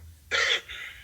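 A single sharp, close cough with a harsh burst followed by a softer trailing throat sound, heard alone.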